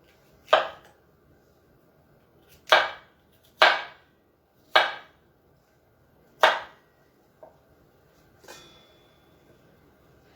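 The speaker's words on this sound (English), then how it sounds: "Cutting all this off here first, then we'll cut it up and put it in this steamer." A knife cuts through cauliflower on a board in about six sharp, separate chops, each a crisp crunch that rings briefly, spaced irregularly and heard close with no talk.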